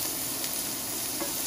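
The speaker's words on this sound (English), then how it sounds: "Chopped onion, onto the frying pan it goes, where we'll make it golden" Chopped onion sizzles in a frying pan as it cooks toward golden, a soft, steady frying hiss heard close and alone throughout.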